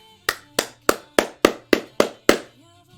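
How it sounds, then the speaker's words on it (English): Eight sharp hand claps ring out alone at an even, unhurried pace, each with a crisp attack and a short room echo. "I'll give you another clap."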